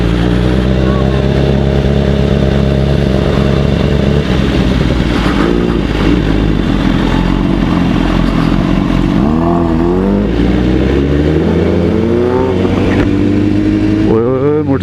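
Superbike engines rev loud and close at night in the desert near Rungpur, Multan, their pitch climbing and falling through several throttle sweeps while voices talk underneath.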